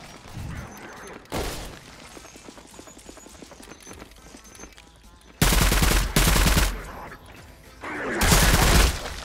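Gunfire and turret shots in the Roblox game Mission A-888, heard as short loud broadband bursts, with heavy repeated volleys near the end over a busy game background.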